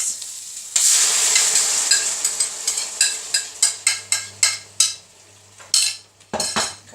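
Prawns tipped into noodles in a hot pan hit with a loud burst of sizzling frying, followed by a steady run of utensil scrapes and clinks against the pan as everything is stirred, close and without talk.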